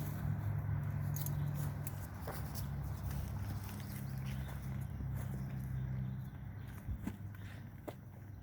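A horse being led out to a paddock for evening turnout, its hooves clopping in an uneven walking rhythm amid faint rustling and low outdoor background noise.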